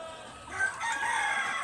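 A native chicken rooster crows once nearby, a short bright call rising out of light background noise.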